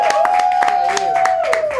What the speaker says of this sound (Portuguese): Salve de palmas, pessoal.